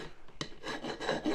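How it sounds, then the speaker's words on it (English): Metal file rasping over the sharp cast edges of a part for a 1/6 scale Armortek Hetzer Jagdpanzer 38 model, a few quick, close scraping strokes in an uneven rhythm. "I'm going to just do a bit of filing on this"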